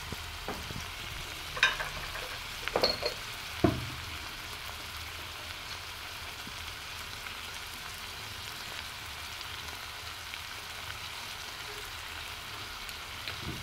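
Chicken frying with chili powder in a pan, giving a quiet steady sizzle with a few sharp scraping clinks of stirring near the start, then a low continuous crackle.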